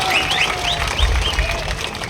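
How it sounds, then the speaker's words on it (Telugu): Audience applause for ministers at a lift irrigation project foundation ceremony in Kodad, a steady crowd clapping under a speaker talking over a loudspeaker. "విద్యుత్ మంత్రి అందరూ చప్పట్లతో వారికి కృతజ్ఞత తెలియజేయాలని చెప్పి విజ్ఞప్తిస్తున్నారు"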